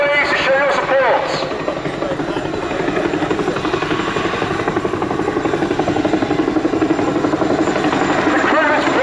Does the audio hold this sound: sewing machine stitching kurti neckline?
no